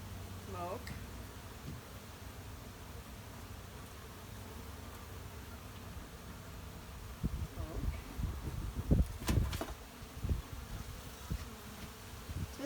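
Honey bees buzz steadily around an opened backyard hive as it is smoked during honey harvest and winterizing, a soft continuous drone with louder passes of individual bees near the end and light rustling.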